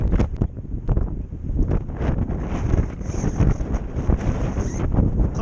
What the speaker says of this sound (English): obviously really windy for a change